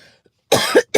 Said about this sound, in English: I know you don't want to hear me coughing